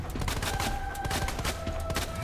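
A magnum fires in the Resident Evil 2 game: dense, repeated booming shots packed close together over a steady tonal game backdrop.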